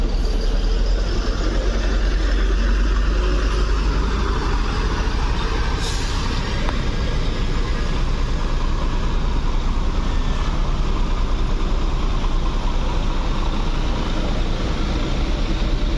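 A new Mior tronton intercity bus idles with a loud steady diesel rumble, a brief sharp hiss of air brake release cutting in partway through, close and continuous.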